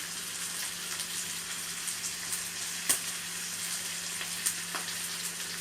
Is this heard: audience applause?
no